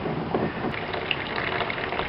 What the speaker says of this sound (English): it's starting to flood over into the other tank